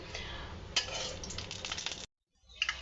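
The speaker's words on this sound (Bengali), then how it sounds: "শুকনা মরিচ ভাজি করতেছি" Dried red chilies frying in a pan, giving a close, steady sizzle with occasional scrapes and clinks of stirring. The sizzle breaks off briefly near the end, then resumes.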